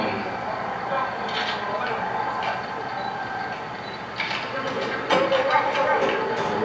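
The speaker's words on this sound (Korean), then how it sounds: "육공역으로 마지막 열차가 들어오겠습니다." Train pulling into a small rural station for its final run, a steady low rumble with clacking and mechanical clatter swelling toward the end, while an announcer's voice speaks throughout.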